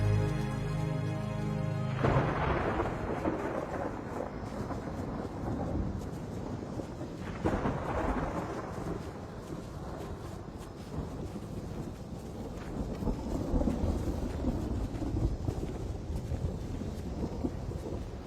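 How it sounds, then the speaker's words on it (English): A heavy thunderstorm with a long, rolling thunder rumble and steady pouring rain, loud and continuous throughout, with a second thunder swell partway through. "Storm's coming."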